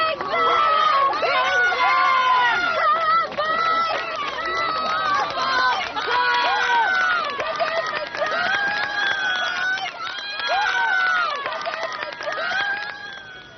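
Crowd of support teams cheering on rafters at Ross during the 100 mile raft race down the Wye, a dense, loud mass of overlapping shouts and whoops that keeps going the whole time with voices calling out.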